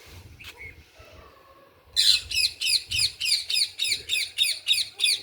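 Birds squawk loudly at sunrise in a fast, regular series of about a dozen harsh calls, close by, after a quiet stretch with a few faint chirps.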